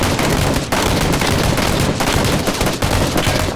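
Dense, loud bursts of rapid automatic gunfire in the battle royale game PUBG, continuous volleys filling the whole stretch with brief gaps.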